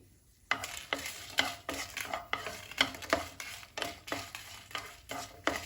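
Whole spices and broken Kashmiri red chilies are stirred in a hot pan, with a steady sizzle under repeated scraping sweeps of a spoon against the metal, about two per second, close and clear.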